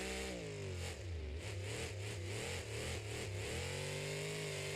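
Uproar monster truck engine revving, heard as a deep, throaty roar that rises and falls in repeated bursts of throttle and then settles into a steady rumble, sustained throughout.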